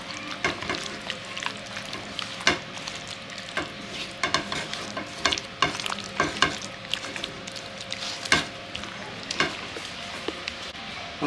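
Fish being mixed by hand with turmeric, spices and bottle gourd leaves, giving wet, squelching and clicking sounds in irregular bursts close by, with a faint steady hum underneath and no talk.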